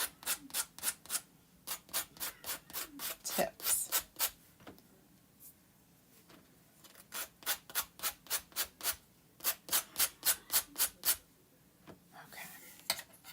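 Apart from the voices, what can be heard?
hand sanding a painted surface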